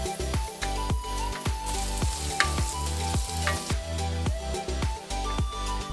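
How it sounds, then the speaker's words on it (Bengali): Spices being fried with ginger, garlic and onion for a potol chingri (pointed gourd and prawn) curry: a steady sizzle runs throughout, punctuated by regular rhythmic knocks of a spoon stirring against the pan, close and fairly loud, with no talking. "সব মশলাগুলোকে আদা রসুন পেঁয়াজের সাথে ভালোভাবে কষাতে হবে"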